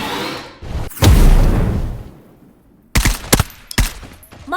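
Gunfire in the mobile 5v5 shooter game Ace Force 2: a heavy burst of shots with a booming tail, a short quiet gap, then several more sharp, loud cracks in quick succession, with no talking.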